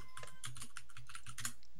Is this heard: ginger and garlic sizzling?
no